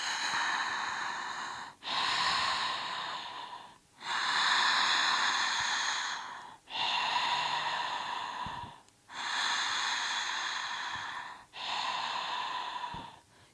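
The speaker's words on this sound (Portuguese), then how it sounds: "você inspira e expira de maneira consciente, uma respiração mais ou menos assim." Slow, deliberate breathing close to the microphone, with six long, airy breaths in an even cycle. Each lasts about two seconds and is separated by a brief pause.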